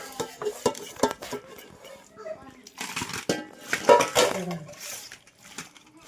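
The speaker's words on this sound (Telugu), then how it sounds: "ముందుగా కలిపి పెట్టుకున్న చికెన్ని మన బిర్యానీ బౌల్లో తీసుకొని మళ్ళీ ఒకసారి బాగా కలుపుకోవాలండి" Marinated chicken being mixed in a biryani bowl, with irregular wet scraping and clinking of a spoon against the bowl in several short bursts, close and fairly loud, while someone talks over it.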